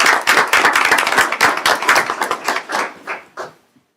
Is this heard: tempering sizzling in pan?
no